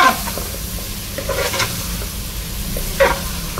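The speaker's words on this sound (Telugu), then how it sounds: "మామిడికాయ కూడా ముక్కలు వేగిపోయినాయి, ఆయిల్ పైకి వస్తుంది" Mutton curry with raw mango pieces frying in oil in a pan, a steady close sizzle broken by a few scraping stirs of the spoon.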